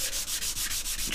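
Wood is sanded with 400-grit sandpaper to remove soot marks from a burned finish on a smartphone stand, a quick run of close, rhythmic scratchy rubbing strokes with no talk.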